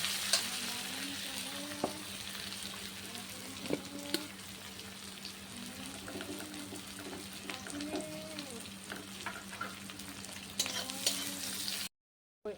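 Onions sizzle steadily in hot oil in a pan, with intermittent spatula scrapes and stirring clinks close by, a soft continuous frying hiss throughout.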